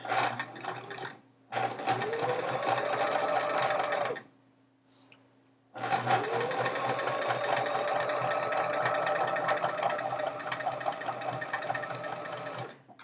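A sewing machine stitches chevron rows for a Charming Chevrons quilt, running loud and close in steady bursts with a whirring motor and rapid needle clatter, pausing briefly twice before a long continuous run; no one speaks.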